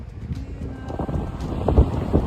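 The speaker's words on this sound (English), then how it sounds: "This is a windy island." Wind on the island of Pantelleria, Italy, gusting and buffeting the microphone in a low, rumbling roar, with occasional louder thumps.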